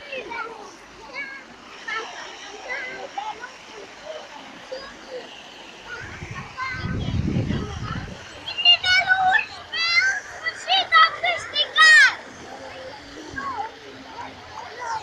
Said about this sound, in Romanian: Eu acum o să intru în apă.